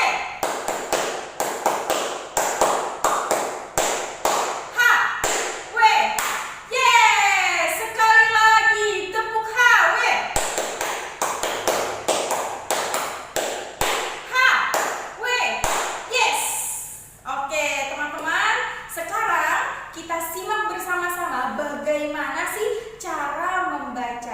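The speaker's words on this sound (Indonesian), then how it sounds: "Tepuk HW." During a Hizbul Wathan scouting lesson, children perform a rhythmic clapping chant, with patterned bursts of hand claps and taps alternating with sung or chanted voices, loud and close throughout.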